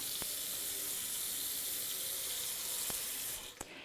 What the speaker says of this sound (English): we're just going to put about an inch of water at the bottom of this pot